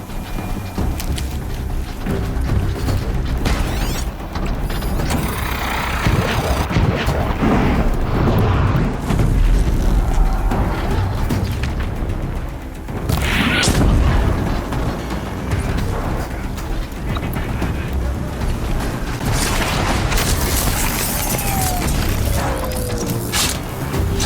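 A corrupted machine battles at Karja Fort in Horizon Zero Dawn, a dense, continuous roar of mechanical clanks, booms and blasts that stays loud and chaotic throughout, with a brief dip midway.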